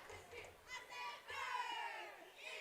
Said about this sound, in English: And these chants are really firing up this crowd.